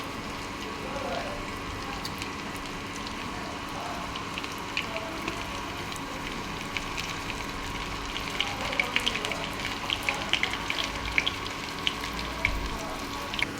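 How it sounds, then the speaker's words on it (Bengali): Onions fry in a pan with a soft, steady sizzle and scattered crackling pops that grow busier toward the end, while a voice talks over the cooking. "পেঁয়াজটা একটু ভাজা হবে, তারপর আমি রসুন আর কাঁচা লঙ্কা দেবো।"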